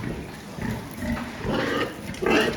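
Low grunting and snuffling from pigs, close by, over a steady hum of background noise.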